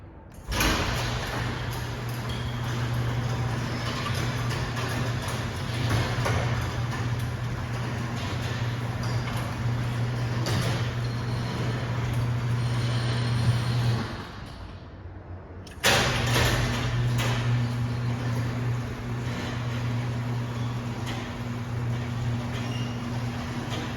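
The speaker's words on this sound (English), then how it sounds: "Okay, now I'll go ahead and run the side door." A LiftMaster MT5011U operator drives a shop side door, a continuous close motor drone with rattling creaks that briefly cuts out near the end before running again, without any speech.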